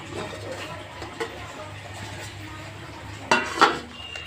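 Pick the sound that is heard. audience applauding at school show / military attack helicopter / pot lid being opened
pot lid being opened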